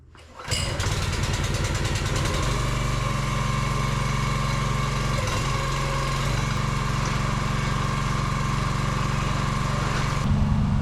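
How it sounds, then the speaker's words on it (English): A log splitter's small gasoline engine starts up and runs steadily at a loud, constant idle close by, its rumble holding for about ten seconds with no talking. "let's get the log splitter ready, get everything going"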